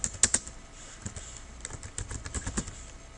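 Typing on a computer keyboard while entering words into spreadsheet cells: a quick irregular run of light clicking keystrokes, close and clear, with a few sharper taps near the start and no talking.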